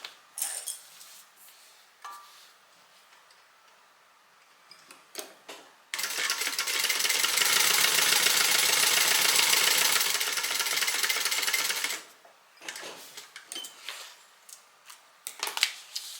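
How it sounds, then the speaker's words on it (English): Sewing machine stitching along the bottom edge of a bag's slip pocket, a steady fast whirring run of about six seconds framed by quiet handling clicks and fabric shuffling before and after, close and alone. "We're going to stitch along the bottom edge only."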